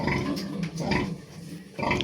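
Calm first-time sow on a small pig farm, grunting in low, rough bursts that come in a few short pulses close by.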